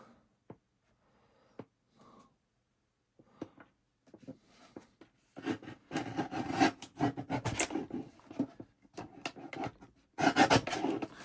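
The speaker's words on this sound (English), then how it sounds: "I've just got a slight edge on the card there, so I'm just going to trim that" A card edge being trimmed during mixed-media stamping and stenciling, first a few faint isolated taps, then close, steady scraping and rasping cuts building in bursts, with no talk.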